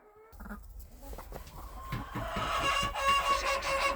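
A hen clucks repeatedly in short, close, rhythmic calls, growing louder and busier toward the end, with faint farmyard background.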